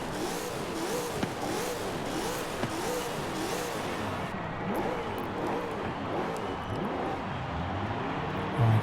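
Brabham BT62 supercar engine in the video game Forza Horizon 5, a loud, continuous rising and falling engine note with repeated revving swells and a faint squeal at the end.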